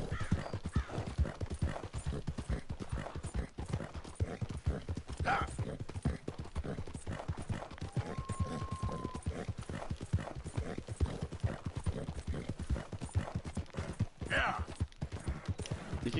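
Horse hooves in Red Dead Redemption 2 clip-clop in a quick, steady trotting rhythm, close and continuous, with faint snorts and a brief whinny partway through.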